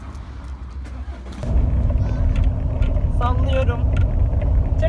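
A car's engine starts and settles into a steady, loud rumbling drone inside the cabin, with a few brief higher chirps partway through.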